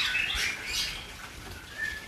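Caged songbirds at a murai batu (white-rumped shama) breeding farm chirping in quick, bright bursts, several calls overlapping at moderate distance with soft fluttering and rustling between them, no talking.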